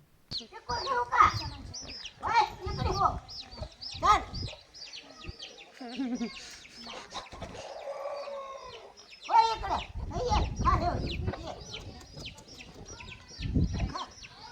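A rooster bought for four to four hundred fifty rupees clucks among a grandmother's backyard hens, their bursts of clucking close and intermittent, mixed with people talking throughout.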